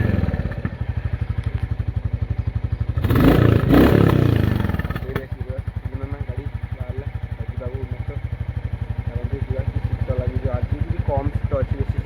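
A motorcycle or scooter engine idles outside on a cold, foggy morning, its steady rapid thumping close and loud, briefly swelling with a clattery burst in the middle before settling back to an even putter.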